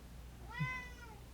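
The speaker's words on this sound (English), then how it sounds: "He is my black cat." A domestic black cat lets out one faint, drawn-out meow over a low background hum, rising then falling in pitch.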